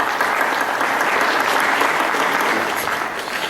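Loud, sustained applause from an audience at a Cusco economists' association session welcoming a speaker, dense clapping with no voices over it throughout.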